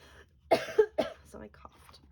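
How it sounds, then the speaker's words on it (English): A person coughs a few times at close range, sharp bursts in quick succession followed by murmured talk, during an indoor mixed-media art class. "So I coughed."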